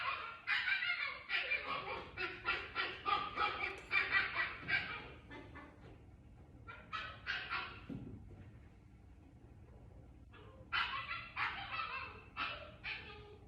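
An Alaskan Klee Kai puppy yaps in quick, high-pitched bursts of barks, pausing briefly before another run of yelps; nearby and fairly soft.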